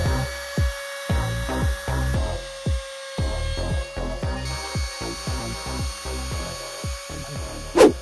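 An edge router rounds the edges of wooden slats for a DIY wooden swing: repeated short bursts of close, loud motor whine cut into the wood in a steady rhythm, with brief pauses between passes.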